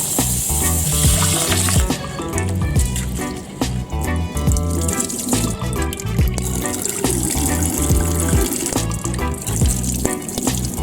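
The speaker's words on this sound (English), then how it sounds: "right now I'll be washing my rice." Water splashes and swishes steadily in a container, with clattering and sloshing as grains are stirred and rinsed, close and continuous.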